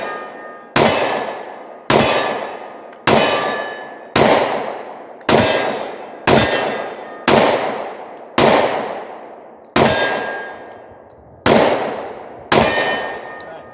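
A 10mm Glock 20 fired one-handed at steel targets: eleven sharp shots at a steady pace about a second apart, each followed by a bright metallic clang and brief ringing decay, loud and close.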